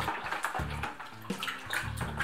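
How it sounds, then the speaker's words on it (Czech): Orange wine must being stirred thoroughly with a wooden spoon, giving repeated sloshing, swirling liquid sounds in rhythmic strokes, close and moderately loud with no talking. "No a teď to celé důkladně zamíchám."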